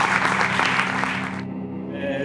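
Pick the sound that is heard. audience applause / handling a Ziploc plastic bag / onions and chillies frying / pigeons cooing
audience applause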